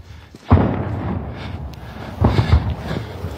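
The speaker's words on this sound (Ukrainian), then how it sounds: "Замість співання пташок чутно тільки пролітаючі снаряди" Several deep booms and thuds of artillery shells and explosions in Bakhmut, Ukraine, muffled by distance, one sharp blast early on and a cluster of heavier impacts later over low rumbling background.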